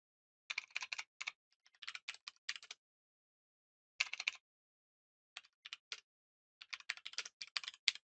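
Bursts of quick keystrokes on a computer keyboard while code is typed, clicking in short runs separated by pauses, close and quiet with no voices.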